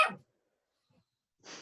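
A dog barks during a homebrewers' club meeting, giving two short, sharp barks separated by over a second of near silence.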